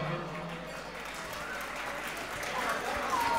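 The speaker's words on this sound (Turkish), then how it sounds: "Alkışa gelsin Hamza Tayrufa." Wedding guests clap in a steady, dense wash of applause that holds at an even level throughout, with faint voices mixed in.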